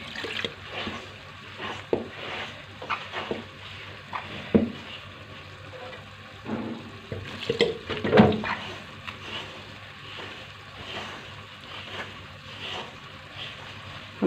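Cool water is worked by hand into flour to knead dough, with soft wet squelching, stirring and slapping sounds coming in irregular bursts, close up with no talk.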